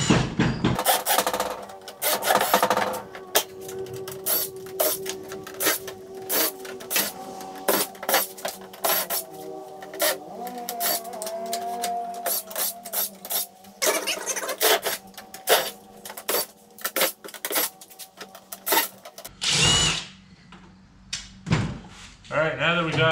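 Screws are backed out of the rear panel of an old flatscreen television being scrapped, giving close, irregular clicks, scrapes and rattles in quick bursts, with brief pauses and a louder clatter near the end.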